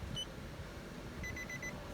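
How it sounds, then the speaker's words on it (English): The ignition-key warning buzzer of a 2016 Nissan X-Trail gives a single faint electronic beep, then a quick run of four short beeps over a steady low cabin hum. "ignition key, buzzer."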